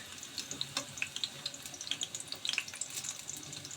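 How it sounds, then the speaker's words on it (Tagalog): Food frying in oil, with quick bright crackles and pops over a soft continuous hiss, heard up close at a moderate level. "So, hingan po tayo at nagpiprito po tayo."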